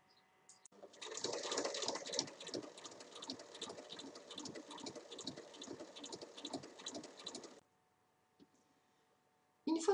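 A sewing machine stitches around a zippered backpack pocket in a rapid, rhythmic whir of needle strokes for about seven seconds, then stops, leaving near silence before a short clunk.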